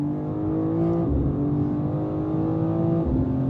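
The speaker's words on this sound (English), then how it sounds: "This car is so fast." A car accelerating hard, either a Dodge Demon 170 or a BMW M2 CS, its loud, steady engine note climbing in pitch, dipping briefly at one point, then rising again at about three seconds, heard close and continuous with no talk.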